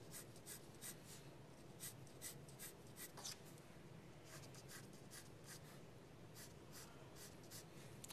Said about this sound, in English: now I'm going to come in there and draw dark lines inside